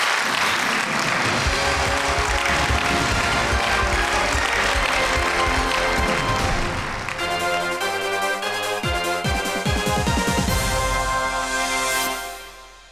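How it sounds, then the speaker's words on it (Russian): Studio audience applause fills a Russian TV quiz show, "Who Will Take the Million?", sustained and dense with music sounding underneath, before it fades out at the end. "И вот за это вам аплодисменты нашей студии"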